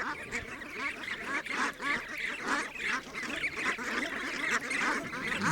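Brant goslings calling continuously at close range, a dense chorus of short nasal honks and quacking-like yelps with no talking.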